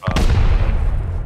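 A rocket blast during a video game raid: one sharp, heavy boom at the start that rolls into a long, dense low rumble, loud and close, with no talk over it.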